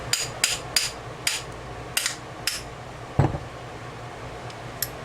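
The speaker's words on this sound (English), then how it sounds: "I have my trusty rubber neoprene hammer" A rubber neoprene hammer knocks on a vintage Vespa spring gear part, a series of sharp, close taps at uneven intervals, about eight strikes with one heavier thud midway, alone in a quiet workshop.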